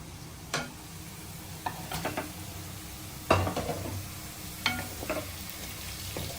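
Eggs frying in a pan with golden fried garlic, a background sizzle broken by several sharp clinks and scrapes of a utensil against the pan, close and moderately loud.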